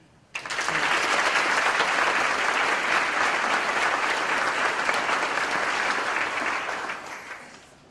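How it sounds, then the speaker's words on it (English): A school assembly audience gives a round of applause for a performing music group, dense, even clapping that starts abruptly, holds steady for several seconds, then tapers off at the end. "indulge me for a moment in a round of applause for the group that was playing"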